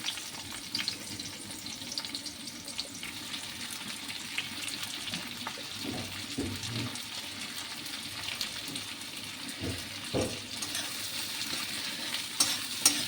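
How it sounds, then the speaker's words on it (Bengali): Sliced onions sizzle in hot oil in a pan while being stirred, giving a steady frying hiss broken by a few scraping stirs and utensil knocks. "পেঁয়াজটা একটুখানি ভাজা ভাজা হোক"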